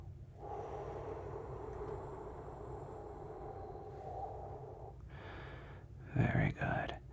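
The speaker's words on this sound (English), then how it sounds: "Breathe in for 4. Pause and exhale." Slow guided breathing in a calm relaxation setting: a long steady inhale with soft airy rush, a pause, then a shorter exhale and a couple of closer breathy puffs at the end, intimate and quiet.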